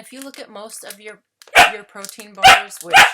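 A puppy gives three sharp, loud barks close by, coming in after a person has been speaking and partly overlapping the talk.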